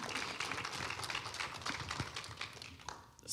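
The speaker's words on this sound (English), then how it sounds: "That deserves a clap." An audience at an art talk about Faith Ringgold breaks into steady applause, a dense patter of many hands clapping at moderate volume that tapers off toward the end.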